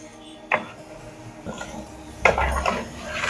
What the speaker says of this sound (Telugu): ఇప్పుడు ఒకసారి కలుపుదాము